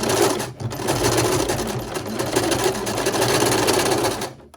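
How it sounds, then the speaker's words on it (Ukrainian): A sewing machine stitches tape onto curtain fabric, running steadily and close for several seconds with a brief dip near the start and stopping right at the end; no talking. "Ось так собі підправляємо і шиємо."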